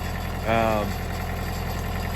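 A 45 horsepower DK40 Coyote tractor with front wheel assist idles nearby in a steady low rumble, with a short louder harmonic swell near the start; a voice talks over it.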